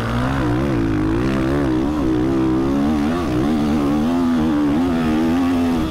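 Quad engine in the MX vs ATV motocross game revving hard and steadily for about six seconds, its buzzing tone rising and falling with the throttle, loud and close with no talk.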